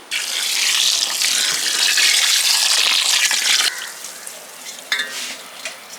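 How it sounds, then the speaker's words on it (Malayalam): Pineapple wine liquid sloshes and swishes as it is stirred with a wooden ladle for several seconds, then the stirring stops and only faint knocks follow. "ഞാനിത് മിക്സ് ചെയ്യാനായിട്ട് തടിയുടെ ഒരു തവി എടുത്തിട്ടുണ്ട്"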